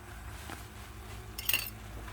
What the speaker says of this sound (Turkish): Arada hafiften şöyle karıştırıyorum arkadaşlar